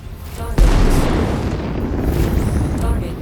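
A mech blowing apart in a heavy explosion in the Mechwarrior 5 Mercenaries video game, a sudden deep boom that rolls into a loud, sustained rumble of debris and fire.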